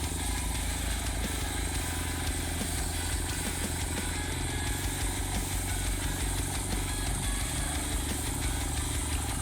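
A homemade diesel-powered active rotary tiller drones at a steady, loud pitch with a constant low rumble and mechanical chatter, close by and uninterrupted throughout, with no voices.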